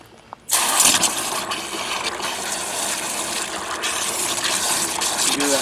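Water gushes and rushes steadily through a stock tank pool pump being flushed of dirt and mud, starting abruptly after a brief quiet moment and continuing at an even, close, fairly loud level.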